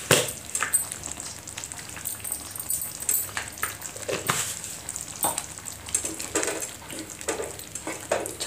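Eggplant and potato curry stirred in a pan, with repeated scraping strokes over a steady frying sizzle, close and moderately loud.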